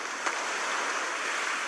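Water bursts through a broken dam in a film scene, a steady, dense roaring rush that fills the air without pause.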